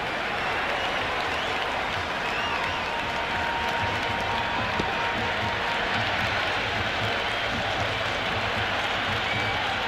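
Stadium crowd applauding in the Cricket 26 game, a broad, steady wash of clapping and crowd noise that holds at an even level throughout.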